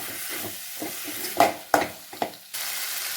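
Potatoes and drumsticks fry in a pan for a masala curry while a spoon stirs them, giving a close sizzle broken by several scraping knocks and a short pause before the hiss returns, no talk.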